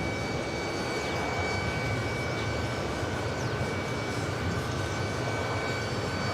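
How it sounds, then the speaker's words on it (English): An Air Europa Boeing 787 Dreamliner arriving at New York JFK from Madrid gives a steady, faint, distant jet rumble with a thin high whine, unchanging throughout and heard alone. "It's their second Air Europa flight arrival here today."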